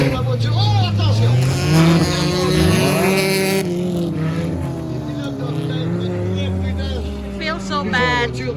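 Stock car engines at an enduro race in New Richmond, loud overlapping engine drones rising and falling in pitch as cars pass close by, continuous throughout with a commentator speaking over them.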